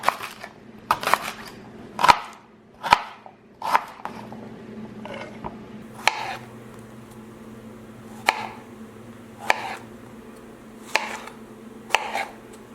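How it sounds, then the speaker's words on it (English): Knife cutting rhubarb stalks into half-inch pieces on a board, a run of sharp separate chops, clustered at first and then spaced out, close and fairly loud over a low steady hum. "I'm gonna cut my rhubarb stalks into about 1/2-inch size pieces"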